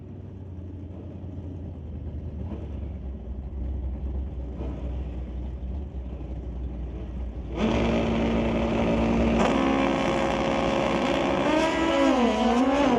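Drag racing motorcycles, a Suzuki and a Kawasaki, rev at the start line, engine drone rising sharply into a loud, sustained high-revving roar with shifting pitch, no talk over it.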